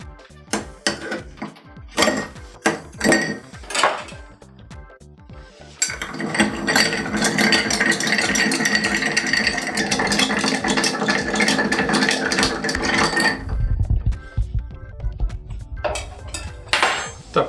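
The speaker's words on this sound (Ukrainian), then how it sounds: "Тепер залишилось тільки перемішати коктейль." A Maraschino liqueur cocktail is stirred in a mixing glass, producing a long, steady run of close metallic spoon-on-glass clinking and rattling, bracketed by a few separate clinks, with no talking.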